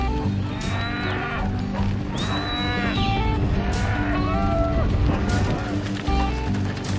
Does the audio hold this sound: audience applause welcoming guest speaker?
no